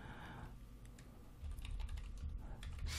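Typing on a computer keyboard while writing HTML code: a steady run of quick, close keystrokes that grows slightly louder and denser in the second half, with no one speaking.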